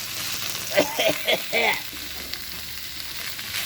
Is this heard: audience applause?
no